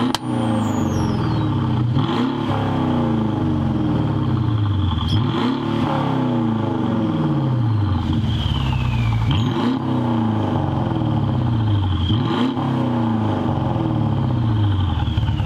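A 2016 Mercedes-Benz S550 on its first test drive after a rebuild, its engine loud and close, rising and falling through repeated revving surges as it accelerates and shifts, with a brief high whine mid-run.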